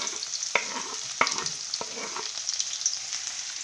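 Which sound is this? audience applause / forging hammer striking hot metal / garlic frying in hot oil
garlic frying in hot oil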